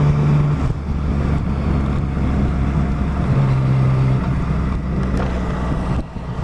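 A motorcycle with a Black Widow aftermarket exhaust drones with a throaty exhaust note, steady and fairly close, with small changes in revs and some wind noise.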